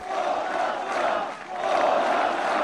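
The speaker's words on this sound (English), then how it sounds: "With thousands of protesters raging just miles away" A large crowd of protesters rages in a sustained, dense roar of many voices, swelling and dipping slightly before surging louder again, heard at middle distance without any single clear speaker.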